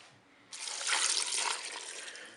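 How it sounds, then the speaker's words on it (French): Water poured into a Cookeo multicooker pot holding spaghetti, mushrooms, peeled tomatoes and white wine: a close, steady splashing pour that starts abruptly and runs for about two seconds, with no talk. "Je vais maintenant verser l'eau."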